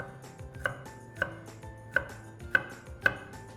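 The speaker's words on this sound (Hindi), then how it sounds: "यूं बारीक बारीक काट देंगे।" A knife finely chopping a tender cauliflower stalk on a board, five crisp evenly spaced cuts in a steady rhythm, close and alone with no talking.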